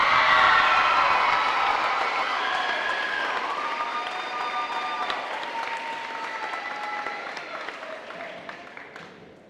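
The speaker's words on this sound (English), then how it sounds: "Let's have one more round of applause for these young ladies." Loud applause from a crowd at a high school basketball homecoming ceremony, strongest at the start, then slowly thinning and fading out over several seconds, with a few scattered cheers.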